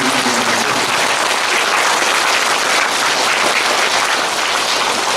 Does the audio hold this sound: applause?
yes